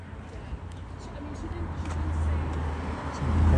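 Cars passing on a downtown street in Regina, a low steady traffic rumble that swells as a vehicle draws closer near the end, with a person talking over it.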